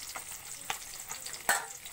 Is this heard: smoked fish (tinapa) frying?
yes